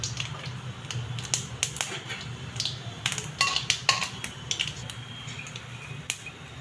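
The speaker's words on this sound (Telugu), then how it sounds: "పోపు గింజలు వేస్తున్నా." Mustard and other tempering seeds crackle and spit in hot oil in a heated pan, with irregular sharp pops scattered over a soft steady sizzle, close by and moderately loud, no voices.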